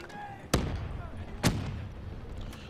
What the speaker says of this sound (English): Why is there so many fucking nades here?